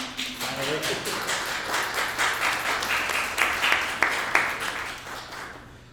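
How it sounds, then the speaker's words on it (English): An audience claps in applause to welcome two artists, Victor Davson and Cicely Cottingham, at an afternoon artist talk. The clapping is dense and steady, with a few louder individual claps standing out near the end before it trails off. "could you all help me give a hand to welcoming Victor and Cicely?"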